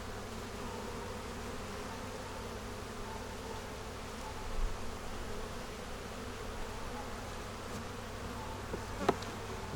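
Honey bees buzz steadily inside an opened beehive during an inspection after a fight, a dense continuous hum close by with a faint sharp tap near the end and no talking.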